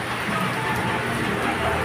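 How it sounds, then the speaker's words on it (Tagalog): Rain falling on a sunny afternoon in Banlat, Tandang Sora, Quezon City, a steady close patter of raindrops on surfaces spread evenly throughout, with no talk. "patak na ulan"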